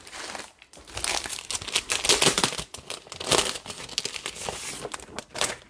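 Sheet of neutral-patterned Stampin'Up cardstock crinkles and rustles while being picked up and handled for card-making, a steady run of close, dry crackling with no talk.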